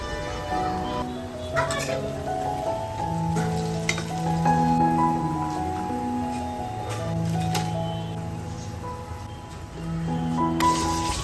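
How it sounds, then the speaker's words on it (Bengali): Onion fritters (piyaju) deep-fry in hot oil with a steady sizzle and crackle, heard beneath melodic background music. "বেগুনি ভাজার পর ভেজে নিচ্ছি পেঁয়াজু"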